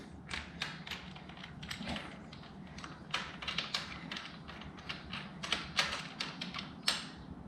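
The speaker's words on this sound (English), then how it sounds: "Let me use our socket." A socket wrench turns a spark plug on a Suzuki DR650SE motorcycle, producing rapid, close ratcheting clicks in uneven bursts over a low mechanical hum, moderately loud with no talking.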